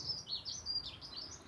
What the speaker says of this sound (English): And the birds are joining in